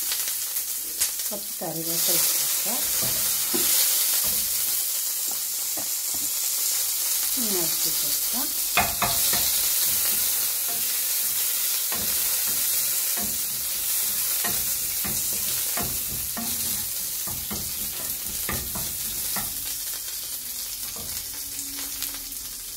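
Oil heats and sizzles in a hot kadai while prawn balls (chemmeen unda) are being made, a steady close hiss with occasional stirring scrapes and brief spoken words.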